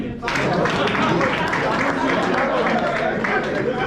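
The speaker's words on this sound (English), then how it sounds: "Clap for me." Audience applause fills a leadership conference hall, a steady dense wash of clapping with crowd noise that starts abruptly and holds loud for the rest of the moment.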